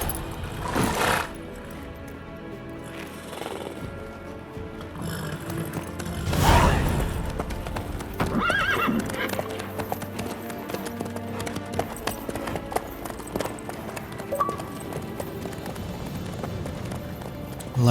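A horse gallops in The Witcher 3, a steady rhythmic clatter of hooves carrying on for the whole stretch, with occasional heavier thumps and bursts of noise along the way.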